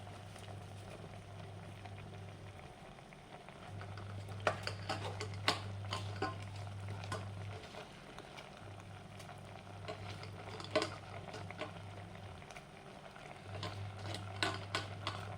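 Drumstick leaves are stir-fried with cooked jackfruit seeds in a pan, giving a steady soft sizzle with intermittent scraping stirs and a low electrical hum that cycles on and off.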